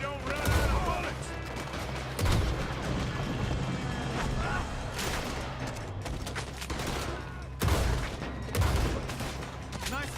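Sustained gunfire from a Red Dead Redemption 2 shootout during a robbery, with heavy repeated shots and loud bursts booming throughout, voices briefly in the mix.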